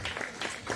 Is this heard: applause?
yes